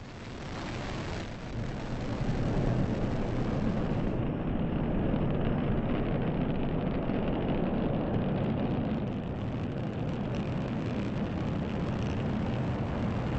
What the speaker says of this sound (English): 3, 2, 1. And liftoff at dawn.